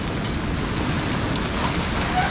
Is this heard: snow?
yes